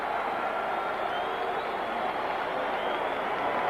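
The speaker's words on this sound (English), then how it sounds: "Crowd roars now as Muhammad Ali comes down the aisle." A boxing crowd roars as Muhammad Ali walks down the aisle for his fight against Oscar Bonavena, a dense, sustained wall of cheering and applause that stays loud throughout.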